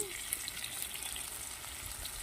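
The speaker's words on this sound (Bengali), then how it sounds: "আলুগুলো লাল লাল করে ভেজে নিচ্ছি" Small potato pieces, salted and turmeric-dusted, fry in a pan for chicken curry, giving a steady close hiss and sizzle with faint crackles throughout, no voices.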